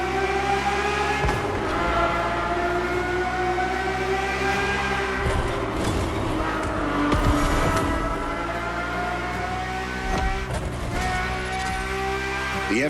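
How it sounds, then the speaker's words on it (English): A Ferrari F50's normally aspirated V12 engine in the racing game Motorfest drones steadily with layered harmonic tones, rising and falling as the car accelerates, shifts and revs. "The F50's core is a normally aspirated V12 that came straight from a Formula One."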